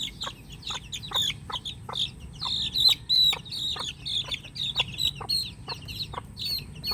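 Many Bulik Gilmore chicks cheep and peep in a busy, continuous chorus of short, high calls, close by, with soft rustling underneath.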